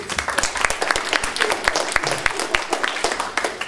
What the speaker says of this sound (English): So big round of applause for Biff.